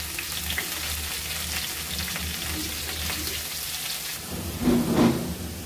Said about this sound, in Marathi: ती तेलात अशी छान परतून घ्यायची फोडणीमध्ये खालीवर करून घ्यायची